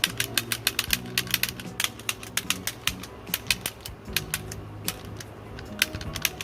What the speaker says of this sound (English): But they have little clicky clackety noises and pretty nice guns.